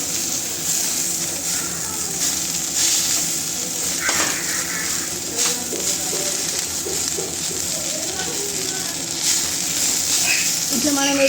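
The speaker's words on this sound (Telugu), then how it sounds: "ఇప్పుడు మళ్ళీ నూనె పోసుకొని కొత్తిమీర వేసుకొని వేయించుకోవాలి." Coriander leaves fry in oil in a pan for a coriander pickle, giving a soft, steady sizzle with occasional stirring scrapes and clinks, while a voice talks over it.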